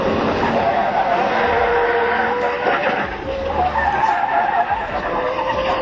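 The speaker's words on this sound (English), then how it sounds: "Drifting a truck takes serious skill, with complex dynamics like weight distribution, steering, and throttle control" A truck drifting, its tires skidding and squealing in a loud continuous screech over engine roar, with faint crowd noise underneath and no break in the sound.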